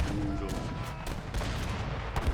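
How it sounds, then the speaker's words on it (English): Mortars and culverins firing in Age of Empires 3, a dense, continuous barrage of overlapping booms and cannon blasts, loud and steady throughout with several sharper impacts standing out. "Mortars are now content to just go ahead and fire into the mass"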